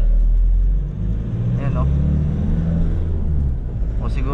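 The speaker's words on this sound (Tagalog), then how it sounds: "medyo maingay yung makina" Inside a 2021 Nissan NV350 Urvan base model van on the move, the engine drones loud and low as a steady rumble, while someone speaks briefly over it.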